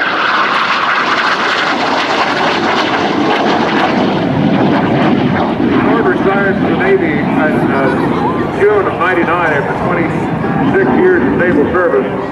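An F-86 Sabre jet and an A-10 fly a USAF heritage flight at the 2005 NAS Pax River Air Expo, a loud continuous roar of aircraft engines sweeping past, with a public-address voice talking over it.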